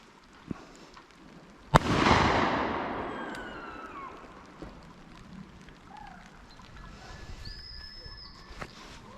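A single loud shotgun blast at a driven pheasant shoot at Powis Castle, sharp crack followed by a long rolling echo across open ground, with a smaller pop earlier and quiet countryside after.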